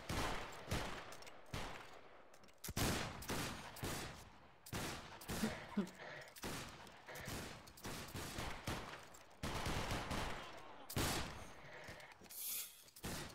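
Rapid, dense bursts of musket and rifle fire crackle in a line battle video game, volleys overlapping continuously with brief gaps, loud and close throughout.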